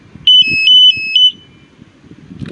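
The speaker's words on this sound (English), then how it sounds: "alarm may sound again" Three loud electronic alarm beeps from a Genie Z45 XC lift during calibration, in a steady pattern, each a sustained high tone, with faint background noise between and after them.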